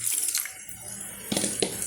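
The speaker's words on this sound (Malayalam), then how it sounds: "നമുക്കിതിലേക്ക് ഇത്തിരി വെള്ളം ഒഴിച്ച് ഒന്ന് തിളപ്പിച്ചിടും" Water pours into a cooking pot while making spinach soup with onion and ginger, a steady splashing stream that swells again near the end, close and clear with no talking.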